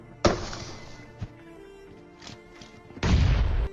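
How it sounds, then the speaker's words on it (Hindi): Grenade blasts in the PUBG Mobile battle game: a sharp booming burst, a few faint thuds and clicks, then a second loud explosion near the end. "ये वाला ग्रेनेड देखना कितना ओपी था"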